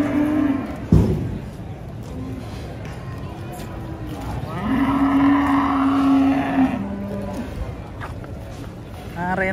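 An agitated cow coming off a truck lets out a long, loud, drawn-out moo amid engine noise, crowd commotion and people's voices, with a shorter low bellow earlier.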